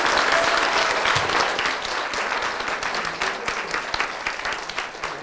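Audience applause at a university talk by a speaker, a dense, steady wash of many hands clapping throughout, loud and close, slowly thinning toward the end.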